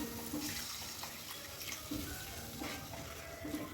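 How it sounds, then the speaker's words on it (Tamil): Milk is poured into a pan of pumpkin halwa, giving a soft, steady liquid trickle with faint cooking sizzle underneath, close and quiet, lasting a few seconds with no talk. "இப்போ இது கூட வந்து நம்ம ஒரு 75 ml வந்து பால் ஆட் பண்ணிக்கலாம்."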